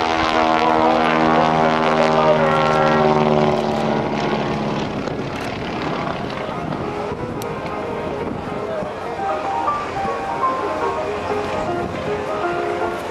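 John Mohr's stock airplane performs a flaming engine restart at an airshow. A strong propeller-engine drone holds steady, then sags and fades into broad wind-like rushing and crowd noise while an announcer talks throughout.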